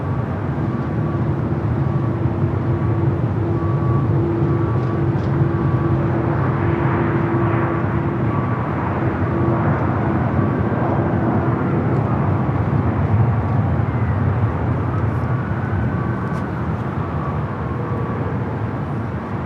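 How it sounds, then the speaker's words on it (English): A Korean Air Cargo Boeing 777 freighter, a heavy jet inbound from Seoul, approaches LAX with a steady, continuous jet roar and whine that holds fairly loud and even throughout, with no talk. "Here's a Korean Air Cargo 777 freighter coming in from Seoul, flight 8207"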